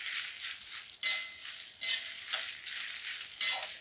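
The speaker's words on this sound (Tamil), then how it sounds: "மிளகா அதையும் நல்லா வறுத்துக்கலாம் மீடியம் ஃப்ளேமில் வச்சு கை விடாமல் நல்லா கலருங்க" Dried red chilies roast in oil over a medium flame for homemade idli podi, a steady close sizzle broken by several louder scraping stirs of the spoon.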